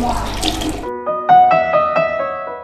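Tap water runs into a sink as a child rinses soap off their face, a close, steady splashing stream that then breaks into uneven trickles and splashes.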